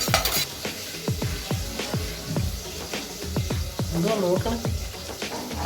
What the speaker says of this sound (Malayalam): അതൊക്കെ എണ്ണയ്ക്കകത്ത് മൂപ്പിക്കുന്നു